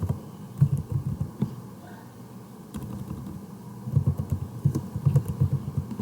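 Light clicks from a computer keyboard as a server name is typed into a database registration form, a sparse, soft run of keystrokes with short pauses, fairly quiet and with no voice over them.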